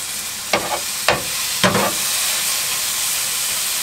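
Tomatoes frying in a pan inside a van, a close, loud sizzle with three sharp bursts as they are stirred, then a steady hiss.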